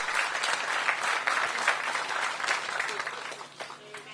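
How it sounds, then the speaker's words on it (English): Audience applause rings out for chairman Max Brown at the ribbon cutting of the Ward 8 Entertainment & Sports Arena, a steady, dense crowd clapping that holds for about four seconds before thinning slightly at the end. "Please give him a round of applause."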